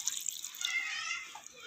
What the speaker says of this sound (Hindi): अब हम इसमें शामिल करेंगे ये 1 किलो फालसा हमने लिया है और इसमें शामिल करेंगे हम 1 कप पानी